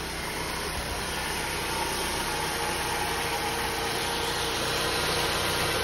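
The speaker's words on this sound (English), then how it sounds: "Go ahead and show you guys how the engine runs. All right, now that the engine's running, no check engine light" A 2010 Ford Focus SE engine idles after a valve cover and gasket replacement, a steady, even, close-up mechanical hum that stays constant throughout with no one talking.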